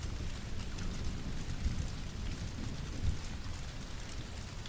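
Steady, dense rain falls continuously, with a soft hiss and occasional low rumbles, moderately close and with no voices.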